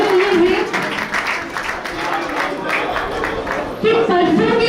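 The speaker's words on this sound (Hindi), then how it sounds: "लेकिन तालियां जोर से बजनी चाहिए।" Applause at an honour ceremony for Professor Phoolchand Jain Premi and Professor Muni Pushpa, loud continuous clapping from a crowd, with a voice speaking over it at the start and end.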